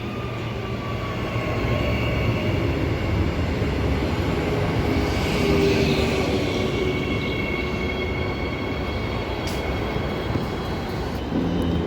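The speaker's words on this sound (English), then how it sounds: "EMU 104 and 52 departing platform number 1" EMU electric train pulling away from platform 1 at Murdoch station, a steady loud rumble and whine of motors and wheels that swells slightly midway and holds, with no voices.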